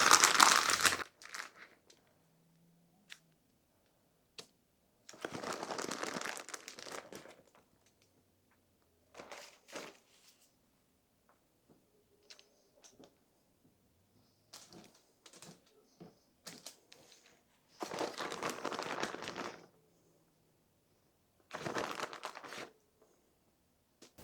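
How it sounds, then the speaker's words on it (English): Parchment paper crinkling as a sheet is laid over homemade pizza in a kitchen, in several separate bursts of crisp rustling with quiet gaps between them. "And then I'm going to put another piece of parchment paper on the top."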